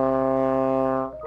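Trombone sustains a steady C in sixth position, a single held brass note with rich harmonics playing alone before cutting off near the end.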